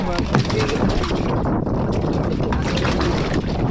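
Strong wind roars and buffets the microphone without a break on a fishing boat at sea, with water and boat noise rumbling beneath and voices faintly mixed in.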